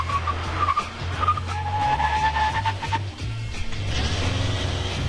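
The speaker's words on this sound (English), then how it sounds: "I'm in a diesel Nissan Titan pickup on a go-kart course, which is so wrong, and yet so wonderful." A diesel Nissan Titan pickup skids while cornering hard on a go-kart course, its tires squealing in a sustained, wavering whine over a steady low engine drone throughout.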